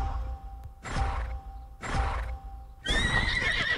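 A horse whinnies in the fantasy video game Wildshade: Fantasy Horse, two breathy snorting bursts followed by a louder, rising neigh, close and clear, with no talking.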